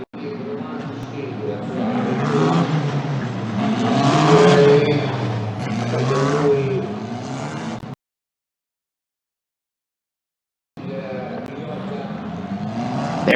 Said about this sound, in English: Stuka warms the tyres on a warm afternoon here at Mugello